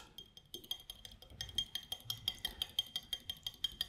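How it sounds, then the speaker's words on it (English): A spoon stirs salt into water in a glass beaker, ringing out a steady run of bright, rhythmic clinks against the glass, close and fairly quiet, with no voices. "Stir the salt."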